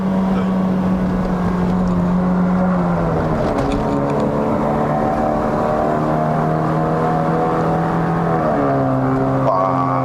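A tuned 1.5-litre Honda City Hatchback (GN5) engine drones steadily with continuous harmonic whine, pitch dipping and rising as it shifts through gears and accelerates on the Genting mountain road, Malaysia, loud and close throughout.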